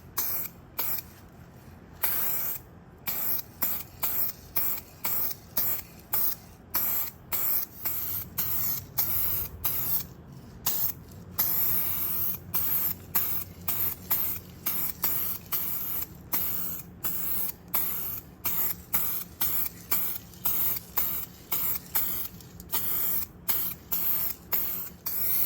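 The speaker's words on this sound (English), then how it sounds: "Just gonna be using an aerosol sealer by U-Paul." Repeated short bursts of U-POL aerosol sealer sprayed onto a car cab body, a steady pattern of hissing spray pulses separated by brief pauses, close and fairly loud, with no talking.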